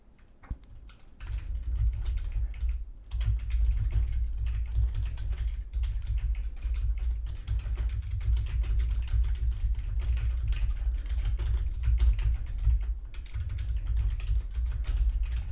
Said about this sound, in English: Because there's some typing sound here.